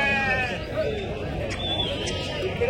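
Sheep bleat amid a busy Tuesday sheep market in Kadiri, with crowd babble and talk throughout the short stretch of sound.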